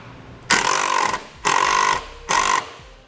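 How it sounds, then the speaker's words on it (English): A power driver with a 5/16 bit drives a long self-tapping screw and washer into a drilled hole while a custom-fit side step is mounted, whirring in three short, loud bursts separated by brief pauses. "put it on a 5/16 driver, and we will go into the hole that we drilled."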